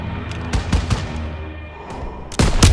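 Several sharp gunshot bursts crack out close and loud in the World War II video game Call of Duty: WWII, scattered irregularly with a short lull in the middle, like combat action with no voices.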